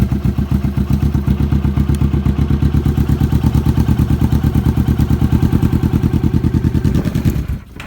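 A customized Kawasaki Vulcan 650S motorcycle engine running at idle, a steady, loud, close-up rhythmic parallel-twin thumping that holds evenly for several seconds before cutting off near the end.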